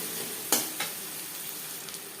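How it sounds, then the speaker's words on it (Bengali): Chopped onion frying in oil left over from frying fish, a steady broadband sizzle with a couple of brief sharper crackles or spatula taps, close and alone. "মাছ ভেজে নেওয়া তেলে দিয়ে দেব পেঁয়াজ কুচি"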